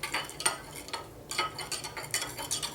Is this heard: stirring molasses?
yes